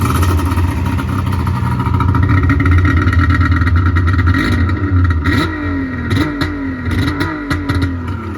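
A 2003 Yamaha Viper 700 snowmobile with triple pipes revs loudly up close, a steady buzzing idle climbing into repeated sharp throttle blips and drops that warble through the second half, with no talking.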